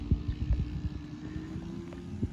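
A light aircraft engine idles steadily with a low, uneven thrum and faint irregular knocks, heard outdoors with some wind buffeting and no talk.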